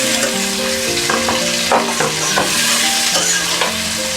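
Chopped onion and garlic fry for beef kofta, a steady loud sizzle with repeated scraping stirs of a spoon in the pan, no voices.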